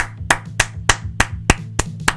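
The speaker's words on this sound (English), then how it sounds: "I'm clapping long enough so you can." Sharp hand claps ring out in a steady rhythm, about eight crisp claps over a low hum, nearby and loud.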